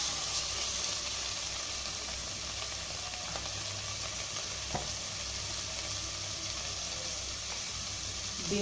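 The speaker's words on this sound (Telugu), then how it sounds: "వేసుకొని 1 నిమిషం దీన్ని ఫ్రై చేసుకుంటే సరిపోతుంది." Carrot and tomato frying in a pan for a millet and sago khichdi, a steady soft sizzle running throughout with faint stirring clicks.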